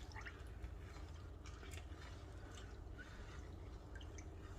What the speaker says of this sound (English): So go ahead and put some hot water into there.